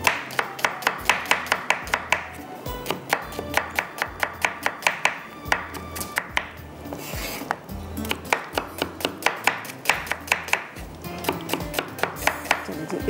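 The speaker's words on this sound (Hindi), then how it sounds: "और इसको प्याज को करते हैं कटिंग।" A knife chopping two onions on a board in a home kitchen, quick rhythmic knocks in bursts with short pauses, close and crisp.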